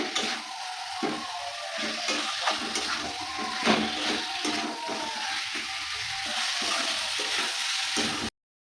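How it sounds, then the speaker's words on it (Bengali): Boiled elephant foot yam sautéing in hot spiced oil, a steady close sizzle and frying hiss with scattered scraping stirs running throughout. "বন্ধুরা আমি বেশ ভালো করে ওলটা কষিয়ে নিয়েছি।"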